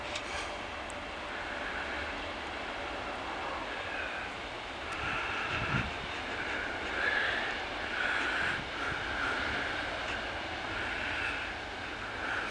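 Virgin Atlantic Airbus A330, about ten years old, landing at Manchester Airport, its engine roar a steady broadband rumble that swells slightly midway and stays fairly distant throughout, with no talking.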